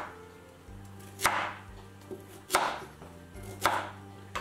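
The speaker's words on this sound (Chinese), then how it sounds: "准备上一根去皮的红薯，先切成滚刀块" Knife chopping a peeled sweet potato into roll-cut chunks on a cutting board: four sharp, close thuds spaced about a second apart, with quiet kitchen background between.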